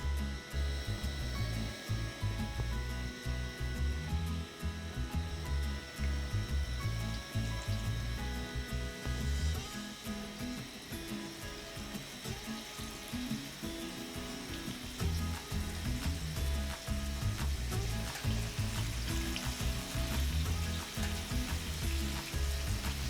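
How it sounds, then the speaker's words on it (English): Chicken deep-fries in hot oil for a chicken wrap, giving a continuous bubbling sizzle with crackles and occasional stirring or handling knocks, steady and close, with no talking. "Then you deep fry."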